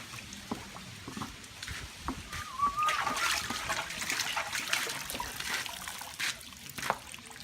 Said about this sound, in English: submerge the sarong into boiling water for 40 seconds